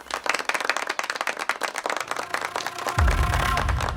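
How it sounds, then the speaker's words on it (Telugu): A small group of people claps in a quick, uneven patter at close range, the applause running steadily before a deeper rumble rises at the end. "సీనుకి చప్పట్లు కొట్టండి రా"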